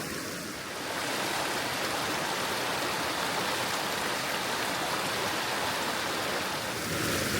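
A river rushes beside a walking path in a nature reserve, a steady broadband wash of flowing water that stays close and constant throughout with no voices.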